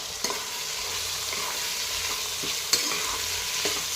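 Whole green chillies and spices sautéing in oil for a mixed veg pulao, a light continuous sizzle with a few sharp spoon taps against the pan, close and alone.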